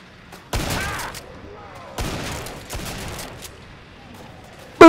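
Nail gun firing in Killing Floor 2, a few sharp, heavy bursts spaced about a second apart with a short clattering tail after each, over a quiet game background and ending in a louder final blast.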